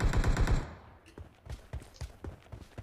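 Rapid bursts of gunfire from a mobile battle-royale game, a dense automatic volley at first, then scattered single shots and short bursts, loud and close.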